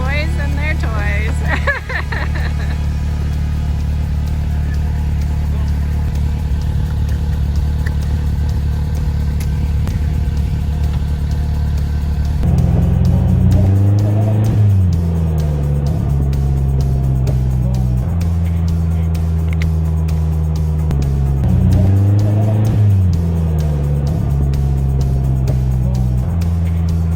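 Polaris Slingshot three-wheeled roadster driving and accelerating, a steady engine drone that rises in pitch through two distinct acceleration pulls, loud and close, with a voice heard over it.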